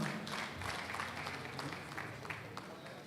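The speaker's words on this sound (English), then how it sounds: "A round of applause for him" Audience applause at a June 12 lecture hall event, a dense continuous patter of clapping mixed with crowd noise and some talk.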